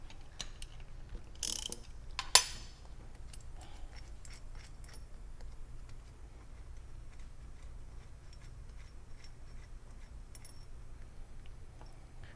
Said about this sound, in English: So we're going to remove the bottom bolts first on the inspection plate.